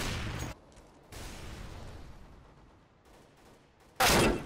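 Gunfire bursts in the video game CS:GO: a loud volley at the start, quieter shots and rumble through the middle, then a sharp, loud burst near the end.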